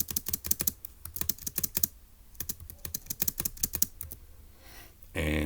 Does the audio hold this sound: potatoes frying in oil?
no